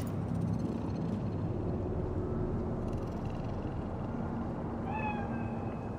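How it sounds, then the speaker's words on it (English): A cat meows in the video game Cyberpunk 2077, a few short rising calls near the end over a loud, steady hum of city ambience. "The cat."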